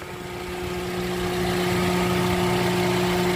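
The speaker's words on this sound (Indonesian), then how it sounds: "suara mesinnya pun juga masih halus, nggak kemerosok, nggak ada suara-suara aneh-aneh" A car engine idles smoothly and steadily, close and fairly loud, with a constant hum and no knocking or odd noises.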